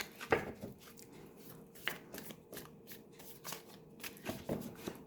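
Tarot cards shuffled by hand in a steady rustling riffle, with a few sharper slaps where cards drop loose onto the surface; close and fairly quiet, no talking.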